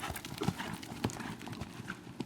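A horse cantering, rhythmic clip-clop hoofbeats repeating steadily at close range, with a faint whinny-like sound and no talk.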